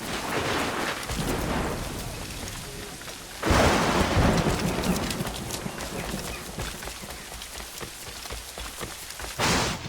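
A thunderstorm in Assassin's Creed's Seven Years' War era rumbles with steady heavy rain, loud thunder claps crashing in near the start and again toward the end, and faint horse hooves clip-clopping underneath.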